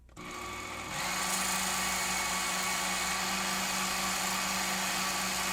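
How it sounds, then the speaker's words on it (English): A small belt sander trims 3D printed parts for a Hot Wheels-sized tilting car hauler trailer, giving a steady, close, high-pitched whine that starts up within the first second and runs on without a break. "bring back the little belt sander and I'm gonna just tune these up, get them to fit"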